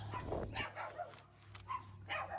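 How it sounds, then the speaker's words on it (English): Several dogs bark repeatedly in short, uneven bursts, fairly close, with a low steady hum underneath. "I'm sorry about the dogs. They are driving me nuts"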